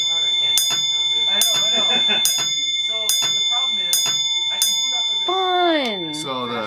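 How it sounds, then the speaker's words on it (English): An old bell driven by a small homemade circuit rings in repeated bursts like a crossing guard bell, loud and close, mixed in with continuous talk from people nearby. "I found this bell, and I just made a little driver's circuit to make it ring like a crossing guard bell would"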